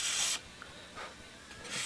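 A big sanding block rubbing across the wooden sheeting of a model aircraft wing, making soft raspy hissing strokes, with a loud stroke at the start and another at the end, quiet and close.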